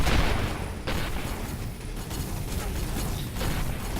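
Missile explosions in the space game Avorion: a steady barrage of booming blasts and bursts, loud and close, packed together with no pause across the stretch.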